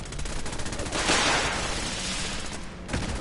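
Rapid gunfire from Fallout 4 rattles continuously in dense bursts, loud and close, with a swelling blast of noise partway through.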